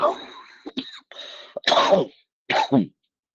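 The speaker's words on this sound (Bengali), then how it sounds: "সরি, আমার খুব কাশি হয়েছে" A few short, harsh coughs and throat-clearing bursts from a speaker with a bad cough during a spoken religious discourse, close and fairly loud, with brief pauses between.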